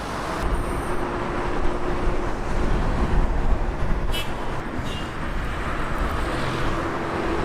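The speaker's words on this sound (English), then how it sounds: "This is the beautiful Nile River." Steady broadband wind and water wash along the Nile River in Cairo, a continuous outdoor roar with a faint low hum of distant traffic or boat engines, no talking.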